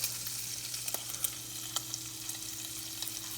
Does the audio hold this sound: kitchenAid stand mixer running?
no